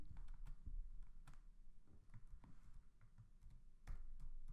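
Rapid, steady keystrokes on a computer keyboard, a string of close, soft clicks and taps with no talk.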